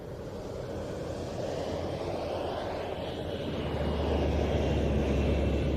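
An aircraft departs at the Royal International Air Tattoo with a steady engine roar. It builds and deepens into a louder low rumble over a few seconds and continues without pause.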